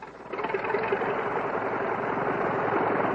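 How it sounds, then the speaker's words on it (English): An OX5 V8 engine on a Curtiss JN-4 training biplane drones in a steady, throbbing, fairly loud run that lasts throughout after a quieter start. "And it's the sound of the famous OX5 engine."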